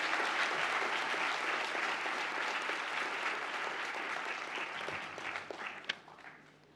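Graduates are applauded at a 2022 University at Buffalo commencement session, a broad, sustained wash of clapping from a large audience that gradually softens, with a few scattered claps trailing at the end.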